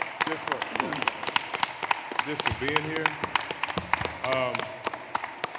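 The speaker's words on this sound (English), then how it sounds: "So I just want everybody to give them a round of applause, right?" A church congregation applauds in sharp, scattered claps that carry on under a person speaking near the microphone.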